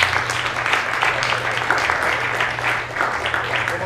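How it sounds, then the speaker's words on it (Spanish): A room of listeners claps for a speaker at a talk on civic politics, with continuous dense applause at a moderately loud, even level throughout. "Un aplauso para Daniel."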